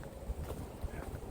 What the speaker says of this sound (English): is freezing cold today. It's windy.